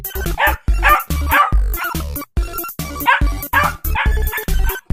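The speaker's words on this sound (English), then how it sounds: "Dog." Cartoon dog barking in a 3D animation, a rapid run of loud, close yaps and bow-wows repeating across the whole stretch with short gaps, set against a busy cartoon soundtrack.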